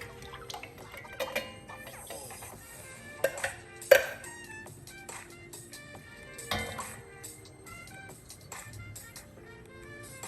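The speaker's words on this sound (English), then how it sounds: "Now I will put the 2 cans of coconut milk." Two cans of coconut milk pour into a cooking pot with soft liquid splashing and dripping, a few clinks of cans against the pot, under faint background music.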